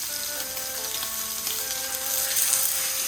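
Steak frying in a hot pan, a steady close sizzle that swells slightly louder near the end, with no voices.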